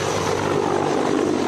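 Mi-8 military helicopter, an armed transport machine, producing a steady, dense engine and rotor roar that stays loud and constant throughout, with no voices.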